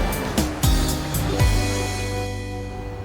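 Ocean waves wash onto a beach in Vietnam, a steady broad surf roar with a couple of deeper swells near the start, continuous and fairly loud with no voices.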